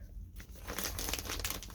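Crinkling plastic packaging from a giveaway prize being opened by hand, a close, steady run of crackling rustles over about two seconds with no talking.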